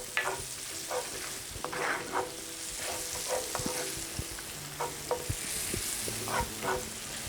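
Onions and spices fry in a pan for a cabbage sabzi, a steady soft sizzle broken by repeated rhythmic stirring scrapes of a utensil, close and moderately quiet, with no talking.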